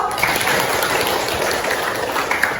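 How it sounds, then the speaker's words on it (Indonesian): A classroom of pupils applauds a classmate named Riko, a dense, even patter of many small hands clapping at close range, steady throughout with no talking. "Beri tepuk tangan dulu dong buat Riko"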